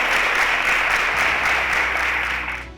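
A studio audience applauds quiz contestants at a televised school quiz semi-final, a loud, even burst of clapping that holds steady and then fades away at the end.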